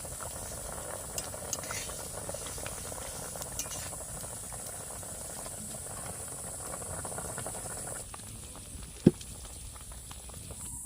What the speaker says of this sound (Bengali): বেশ কিছুক্ষণ ফুটিয়ে নেব।